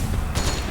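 A short, loud burst of gunfire from PMC soldiers in Metal Gear Solid 4, one sharp crack over a thick, steady battle rumble.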